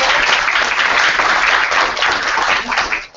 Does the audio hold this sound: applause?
yes